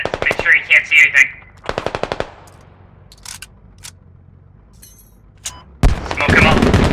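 A heavy machine gun in the Squad military shooter fires two rapid bursts of loud, close shots, then a quieter stretch with scattered distant reports before a heavy blast and rushing noise at the end.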